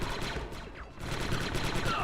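Rapid, sustained gunfire from the shooter game Star Wars Republic Commando, played on the original Xbox, with dense overlapping shots rattling loud and close, a brief lull near the middle, then a steady burst of fire resuming.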